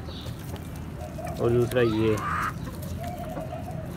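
Hens clucking in a backyard poultry setup, a short burst of several layered, fairly close calls in the middle of the clip, with someone speaking briefly over steady background noise.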